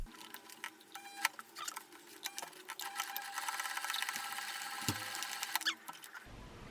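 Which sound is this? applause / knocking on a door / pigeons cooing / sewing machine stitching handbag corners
sewing machine stitching handbag corners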